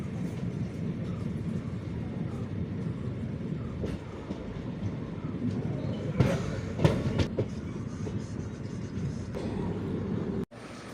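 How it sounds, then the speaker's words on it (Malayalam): A passenger train on the Shoranur–Nilambur line, heard as it runs slowly toward the turn for Nilambur: a steady rumble and wheel noise with a few clicks and squeaks, then a sharp clunk near the end. "ഇനി സാവധാനം വണ്ടി നിലമ്പൂർ ഭാഗത്തേക്ക് തിരിയും."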